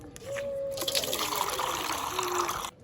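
Water is poured out for an animal in a steady trickling stream that runs for a few seconds and then stops abruptly.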